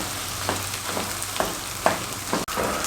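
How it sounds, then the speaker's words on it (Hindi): Goat brain masala fries over a medium flame in a pan, a steady, close sizzle with regular stirring scrapes roughly every half second. "इस तरीके से मिक्स करते रहेंगे और मीडियम फ्लेम पे 3 मिनट तक इसको मज़ीद पका लेंगे।"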